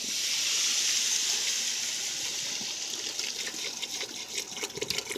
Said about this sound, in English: This is distilled water that I'm putting in right now.